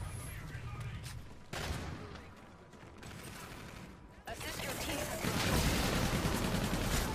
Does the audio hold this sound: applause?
no